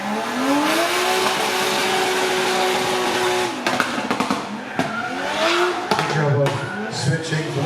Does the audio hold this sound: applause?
no